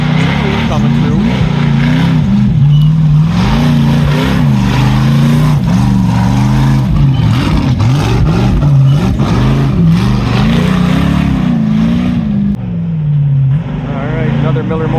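A Miller Motorsports Ultra4 off-road race car passes loudly with a revving, wavering engine note that swells and fades, while commentary continues over the engine.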